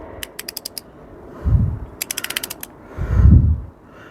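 Rapid bursts of ratchet clicks from a wrench tightening a bolt on a Volkswagen Golf GTI engine during assembly, close and loud, alternating with two heavier creaking strains of the bolt turning, no voices.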